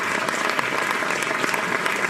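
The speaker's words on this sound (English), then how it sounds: "The applause audio file is working perfectly." Recorded applause sound effect, a steady dense burst of crowd clapping playing at even loudness throughout.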